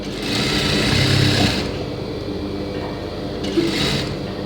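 A sewing machine stitches a fold of blouse fabric with a steady, close mechanical whir that runs without a break, swelling slightly in loudness near the start and again toward the end.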